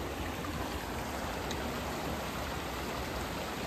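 A river stream rushes past at Rocky Island as an even, unbroken wash of flowing water, close and steady throughout.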